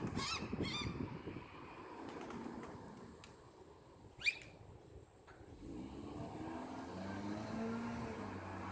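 Several birds give short, faint honking calls in a few quick bursts, heard from a distance over a low outdoor rumble.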